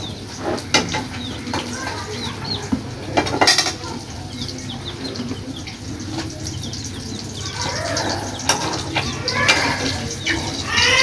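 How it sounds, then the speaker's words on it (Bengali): Fried fish lifted from a pan on a village veranda, with light clinks of utensil against metal, faint water and distant birdsong in the background. "এখন আমি মাছগুলি উঠিয়ে নিব।"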